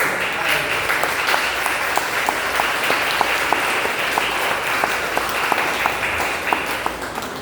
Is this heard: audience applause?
yes